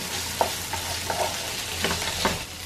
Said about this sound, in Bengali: ডালের সাথে মিশিয়ে নিলাম।